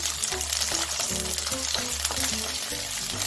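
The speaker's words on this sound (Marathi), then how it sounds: "कांदा छान प्रकारे फ्राय होऊ द्यायचा आहे" Chopped onion frying in hot oil in a pan, a dense, continuous sizzle with light stirring scrapes and a low steady hum underneath, close and loud, with no voices.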